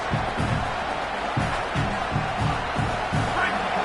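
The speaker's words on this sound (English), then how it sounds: "this crowd is turning it up a notch" A stadium crowd roars at a football game, a broad sustained din under a commentator's voice, with rhythmic thumps pulsing roughly every half second beneath the noise.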